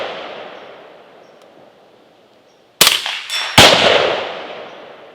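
Two sharp suppressed gunshots from a rifle fitted with an Optimus Micro silencer ring off steel targets close together, each cracking loudly and then fading in a short metallic decay after a quiet lead-in.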